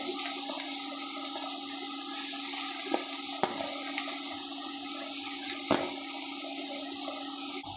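Chopped onions fry in hot coconut oil with a steady, close hiss of sizzling, broken by a few sharp crackles and pops.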